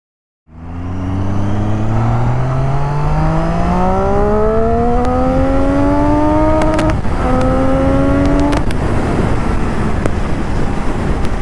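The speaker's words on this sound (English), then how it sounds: "this is a 3-cylinder motorcycle, so you have the best of both worlds" Triumph Street Triple 675 three-cylinder motorcycle engine revving up steadily from low to high, a rising harmonic whine with a brief gear-change dip near the top, loud and close with no talk.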